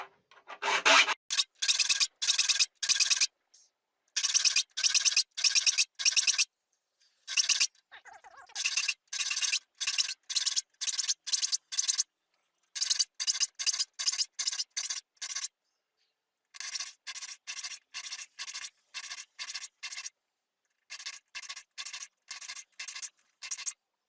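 A file rasps across the teeth of a rip saw in bursts of quick back-and-forth strokes, each run of strokes separated by short pauses, close and crisp with no talking.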